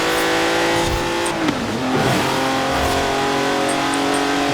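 A race car's engine revs hard in Forza Horizon 4: a loud, continuous high-pitched roar that dips briefly as the revs drop, then climbs and holds steady again, with no talking over it.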